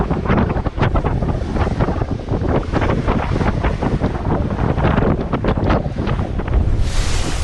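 Breeze buffeting the microphone aboard a double-handed racing sailboat training at sea, a loud continuous rush of wind with gusty fluctuations and water noise underneath, no voices.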